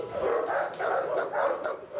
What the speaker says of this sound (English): For Colin, it wasn't just the noise of the dogs that was clearly a problem.